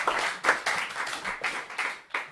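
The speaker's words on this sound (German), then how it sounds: "es gibt meistens mal einen kräftigen Applaus nochmal" An audience claps in several distinct bursts of hand applause, fairly close and lively, with brief lulls between the rounds.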